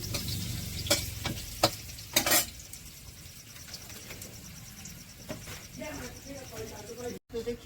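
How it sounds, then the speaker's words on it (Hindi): Elephant foot yam frying in mustard oil in a pot, a faint steady sizzle with occasional stirring clinks and scrapes, while someone talks over it. "इस तरह फ्राई हम कर दिली हैं"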